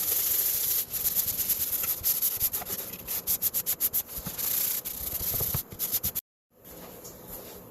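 Wood being hand-sanded for a DIY fly-fishing tying station, close rhythmic scratchy rubbing strokes in quick repeated bursts, pausing briefly near the end.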